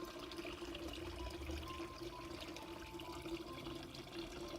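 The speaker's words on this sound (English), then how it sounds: "This is one of the best water features here in our small backyard garden." A small backyard garden water feature trickles and splashes steadily, a continuous close wash of running water with a faint hum underneath, lasting the whole stretch with no talking.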